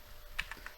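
A few quick, faint keystrokes tap on a computer keyboard, three or four soft clicks in a quiet room with no talking.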